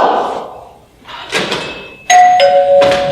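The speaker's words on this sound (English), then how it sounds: "That's the doorbell here, not the telephone." A doorbell chimes twice with bright ringing tones on a high school theater stage, preceded by a few knocks or thuds, fairly close and loud.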